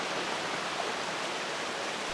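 River water splashes and bounces among spring ice, a steady broadband rushing wash, moderately close but fairly quiet and even throughout, with no voices.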